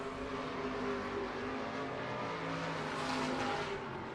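IMCA race cars roaring around a dirt oval speedway during an All Star Shootout at Southern Oklahoma Speedway, a dense, steady wall of engine noise heard from a distance, with no talk.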